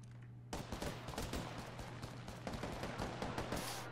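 Gunfire crackles in the Apex Legends video game, starting abruptly after a brief quiet and continuing as a dense, rapid volley of sharp shots, loud and close, with no speech.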